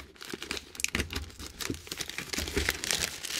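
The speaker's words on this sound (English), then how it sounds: "Cutting open James' model here." Packaging of a Revell 1971 Ford Bronco model kit being cut open, with steady close crinkling and tearing of plastic and cardboard and a few sharper cracks, fairly quiet and continuous.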